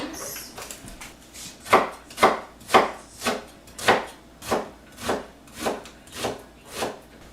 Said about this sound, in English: I'm going to chop half of this onion with the rest of the onions.